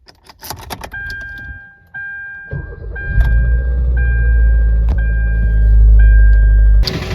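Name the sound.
car engine starting and running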